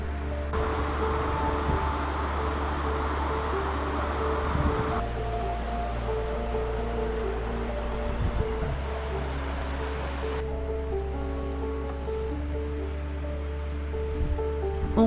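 Waterfall descending from the Taillefer massif in the mountains, a steady, loud broadband rush of falling water that continues unbroken throughout, with no voices.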